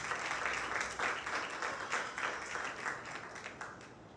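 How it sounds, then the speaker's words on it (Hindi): A church congregation at a Sunday meeting applauds steadily, with many hands clapping in a dense, even wash that tapers slightly, heard from a moderate distance. "यीशु के लिए जोरदार तालियां बजाएं"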